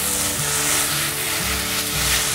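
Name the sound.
tofu skin (doubao) frying in a pan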